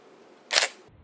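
A Nikon D90 shutter fires once at 1/4000 second, a single sharp, close mechanical clack that ends quickly with nothing around it.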